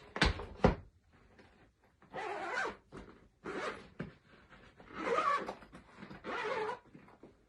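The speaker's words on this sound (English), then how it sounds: "make sure you've just taken one of them and unzip it all the way around." A zipper on a violin case is pulled all the way around the lid in several long rasping bursts, close and distinct, with short pauses between the strokes.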